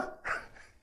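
A mimicry artist imitates a dog with a single short bark-like yelp, near and fairly faint, lasting under a second.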